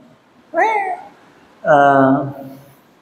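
A cat gives two loud, close meows in quiet, the second longer and drawn out.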